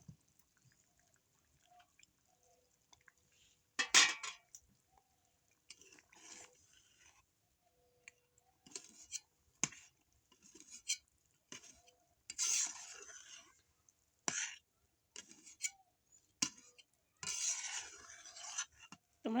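A spoon scraping and stirring through silver carp and cauliflower curry with cumin paste in a pot, in intermittent bursts of rubbing and clinking separated by quiet pauses, close and without talk.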